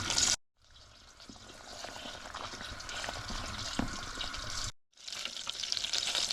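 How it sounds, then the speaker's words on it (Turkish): Butter melting in a pan for a Turkish yayla soup made with aşure wheat, giving a steady, moderate frying hiss and crackle with small pops, with brief gaps near the start and end. "Burada da tereyağını eritiyorum."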